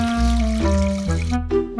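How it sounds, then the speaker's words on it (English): At a bathroom sink, running tap water splashes and gurgles as hands scoop it up and splash it onto a face, in two or three short close bursts. "Splashing water on my face."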